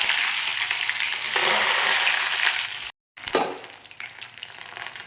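Small shallots frying in hot oil for a rock fish curry, a steady broad sizzle that briefly cuts out and then resumes with sharper crackling bursts, close and fairly loud with no talk.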